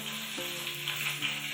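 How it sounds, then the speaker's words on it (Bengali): Tomatoes fry in a pan of oil for a Bengali hilsa fish curry, giving a steady soft sizzle with faint stirring scrapes, quiet and close, with no talking. "বন্ধুরা, এখন আমি টমেটোটাও একসঙ্গে দিয়ে ভেজে নেব।"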